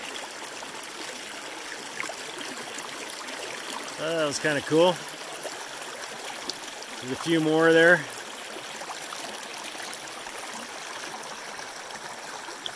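A gentle mountain creek with ice forming at its surface flows steadily in the background in the morning, soft and continuous, while a voice speaks briefly twice over it.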